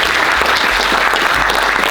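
Audience applause at a trading masterclass, a dense, loud, even wash of clapping from a large crowd that carries steadily through the whole short stretch.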